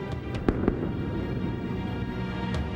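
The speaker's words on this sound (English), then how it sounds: "2 explosions crack across the desert." Two sharp booming cracks, sonic booms from a supersonic X-1 aircraft over the desert, a fraction of a second apart, loud against a low rumbling background, followed by fainter distant pops.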